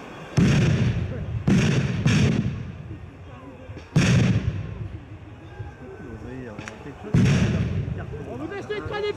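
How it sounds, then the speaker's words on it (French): Grenades explode during a clash at the ZAD, four sharp booming blasts spaced a couple of seconds apart, each trailing off, with voices talking in between. "Grenade. Grenade."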